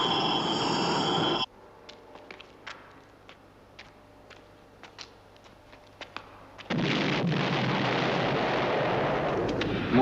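Heavy rumbling explosion blasts on a moon base in the TV series Space: 1999 open and close the clip, with sparse sharp pops and crackles scattered through a quieter stretch between them.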